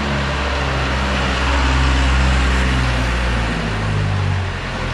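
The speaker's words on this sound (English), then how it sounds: "This truck is going to be really loud." A loud truck drives along a city street in Macau, and its heavy engine rumble and road noise swell and then ease slightly at the end. No one speaks.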